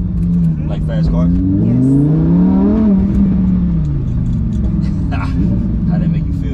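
Fast car engine revving up and settling, a loud, close rumble that rises and falls in pitch, with people talking over it.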